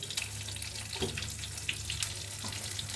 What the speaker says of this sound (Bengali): আর এদিকে বেগুনে তো আমি ভাজতেছি